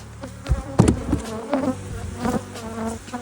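Honey bees buzz in a hive after a fume board is taken off during preparation for honey extraction, a close, irregular droning with a few louder passes of individual bees.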